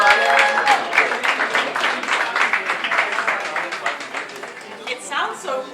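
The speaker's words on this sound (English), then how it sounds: "Please a round of applause." Audience applause welcoming the board chair at an anniversary event for employer partners, a steady patter of clapping that gradually thins, with talk underneath.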